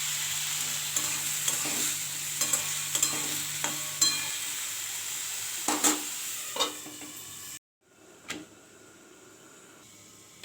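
Green beans and potatoes fry in a wok with salt and turmeric, giving a steady close sizzle broken by repeated scrapes and clinks of stirring; the sizzle drops sharply near the end, then resumes.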